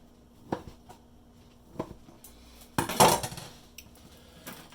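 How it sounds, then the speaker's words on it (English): A knife cutting thawed bread into small cubes, a few soft, sparse knocks on a board followed by a louder, scraping clatter near the end. "what I'm going to do is cut these into small cubes, roughly about a 1/2 inch wide"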